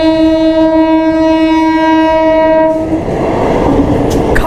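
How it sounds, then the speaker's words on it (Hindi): A local train passes close by. A long, loud horn blast sounds over rumbling wheels, then gives way to a steady roar of rolling cars and clatter. "लोकल ट्रेन आ रहा है, देख लो ट्रेन का सीन"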